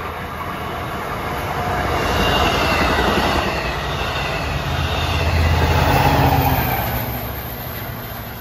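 A Long Island Rail Road commuter train rolls past the Carle Place station on a weekday morning rush hour. A loud, steady rumble of wheels and cars swells as it passes close by, with faint wheel squeal over it and no voices.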